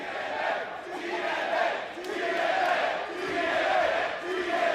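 A large wrestling crowd at a TNA event in the Phoenix area chants and cheers for Elijah, a loud, sustained rhythmic roar that swells and dips in waves throughout.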